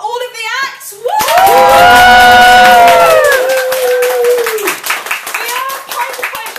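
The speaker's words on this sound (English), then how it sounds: "Can I have a huge applause, a rapturous applause for all of the acts?" A live poetry and drama show audience at the Edinburgh Fringe bursts into loud clapping, cheering and whooping for the performers, with shouted voices rising over the applause before it thins out.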